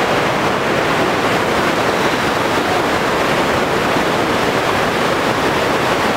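Steady, broadband rushing of river water flowing through a gorge, loud and close, continuous for the whole stretch without pauses or voices.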